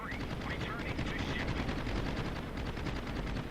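World of Warships carrier gameplay: aircraft machine guns fire as fighters attack enemy bombers, making a continuous rapid rattling burst at steady loudness. A voice talks over the gunfire.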